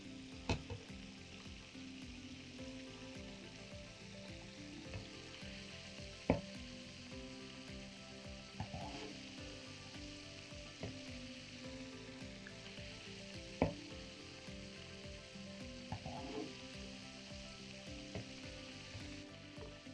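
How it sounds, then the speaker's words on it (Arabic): Chicken wings coated in flour and egg fry in hot oil, giving a steady, even sizzle across the whole stretch, with a few sharp clicks and pops from the pan and no one talking. "هنسيبها بقية الكمية تتحمر"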